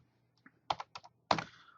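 A few quiet computer keystrokes in an irregular sequence, close and clear, with a slightly longer clatter at the end.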